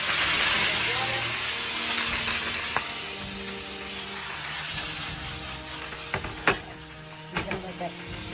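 Wilted greens steaming in a covered pan after water is added, a soft hiss and sizzle that fades over several seconds, ending with a few sharp clinks and knocks.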